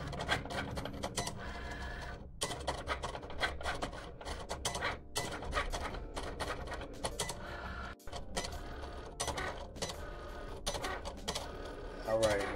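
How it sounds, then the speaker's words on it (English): A vinyl cutter cuts teardrop shapes from heat transfer vinyl, making a busy whirring and rapid ticking as the carriage moves back and forth, close and fairly loud, with brief pauses and a person talking over it. "right now I got the teardrops going through the vinyl cutter right now"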